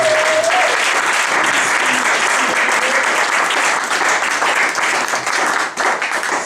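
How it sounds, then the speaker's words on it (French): A church congregation breaks into sustained, dense applause that stays loud throughout, with some cheering mixed into the clapping. "Acclamons très fort."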